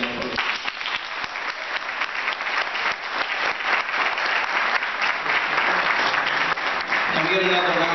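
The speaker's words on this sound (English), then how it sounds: "Can we get another round of applause for Dr." Audience at an African Heritage event marking 150 years of the Emancipation Proclamation bursts into sustained, dense applause, loud and even throughout, fading slightly as a voice begins at the very end.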